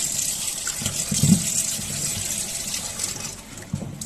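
Water gushes steadily from a kitchen tap while pork spare ribs are rinsed under it, a continuous close splashing stream with a few brief louder splashes and no talking.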